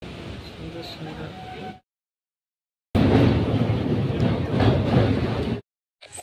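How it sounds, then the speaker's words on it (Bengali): Jan Shatabdi Express 12073 running from Howrah toward Bhubaneswar, a loud steady rumble of the moving train carried in two bursts separated by a short silence, with speech over the first part. "রাইট টাইমে কিন্তু ট্রেন ছেড়ে দিয়েছে।"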